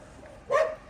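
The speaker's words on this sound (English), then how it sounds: "There's the guardian dog," A guardian dog named Laura at a rural lodging beside a kiwi plantation in a Portuguese village lets out a single short bark, moderately close, over quiet outdoor background.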